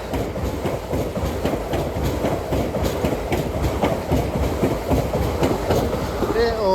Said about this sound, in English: Passing through now is the LNER service after Edinburgh.